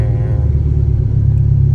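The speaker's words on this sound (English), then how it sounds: "actually we're just gonna start the car" A Volkswagen Mk6 engine idles with a deep, steady low rumble at close range, loud and unbroken after what sounds like the tail of a start.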